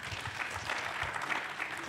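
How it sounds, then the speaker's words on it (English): An audience gives a round of applause for a conference panel, brisk close clapping with a soft, uneven patter that carries steadily throughout and no speech over it. "let's give them a round of applause"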